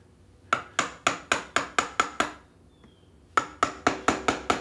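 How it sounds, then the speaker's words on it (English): Sharp, evenly spaced chisel strikes on a wooden bowl at a lathe, two bursts of about seven or eight knocks each separated by a short pause, close and loud. "I should have just stopped where I was initially and chiseled the piece off just like I'm doing right now."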